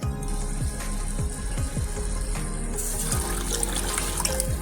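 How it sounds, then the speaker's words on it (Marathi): Water pours steadily into a pot close by, a continuous splashing stream with gurgling rises, nothing else heard. "आता याच्यात मी थोडं पाणी ऍड करणार आहे"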